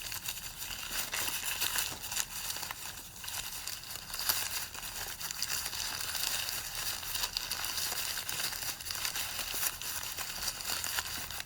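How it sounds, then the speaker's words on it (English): Old paper crinkles and rustles continuously as it is crumpled up to stuff a sock puppet, a close, busy crackling that runs for several seconds without talk. "you can crumple it up and put it inside your sock"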